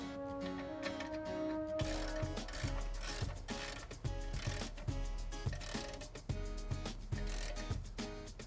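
A ratchet tightens the two large bolts holding an air strut to the spindle assembly, giving rapid mechanical clicking in repeated bursts, loud and close, with metallic ringing between strokes.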